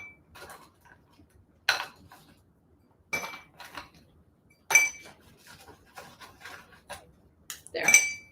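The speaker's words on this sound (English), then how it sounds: "put 4-ish ice cubes, or as many as you want." Ice cubes drop into a cup one at a time, giving about four or five sharp, close clinks separated by short quiet gaps.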